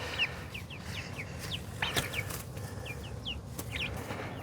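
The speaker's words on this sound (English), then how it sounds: "Now these chicks were bought down from Valley Hatchery" Young pullet chicks from a hatchery chirp and cluck in a repeated series of short, fairly close peeps over a steady low rumble of background noise, with a brief flutter partway through.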